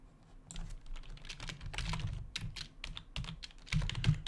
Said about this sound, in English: I can't type and say the words I'm typing.